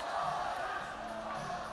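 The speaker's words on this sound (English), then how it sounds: "the crowd is chanting for Colton Loud" An arena crowd at a fight night chants for fighter Colton Loud as a steady, dense roar of many voices, fairly loud and sustained throughout.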